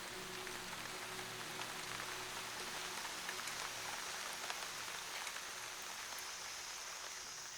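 Rain falls steadily through a chimpanzee forest, a faint, continuous hiss of drops pattering on leaves and surfaces with no break or voices.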